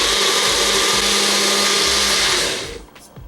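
A blender whirs loudly, grinding garlic cloves and fresh ginger with coriander paste into a curry paste, a steady close motor drone for over two seconds before it spins down and stops.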